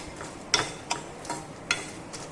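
Spices dry-roasting in a pan over a medium-low flame for Pindi chhole, stirred with a few light, separate scrapes and clicks, soft and close with no talking.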